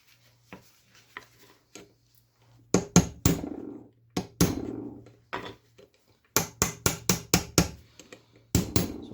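Disassembly of a 1938 BMW R35 motorcycle gearbox: scattered sharp metallic knocks and taps, then clusters of loud hammer-like strikes and clanks in irregular bursts, close up over a faint steady hum.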